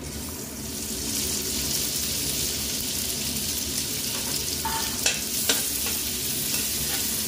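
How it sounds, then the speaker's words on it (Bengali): Washed Gobindobhog rice fries in oil with whole spices over a very low flame, giving a steady close sizzle with soft stirring scrapes and a few sharper clinks near the end, with no talking. "ফ্লেমটাকে একদম লোতে রেখে হালকা করে ভেজে নিতে হবে।"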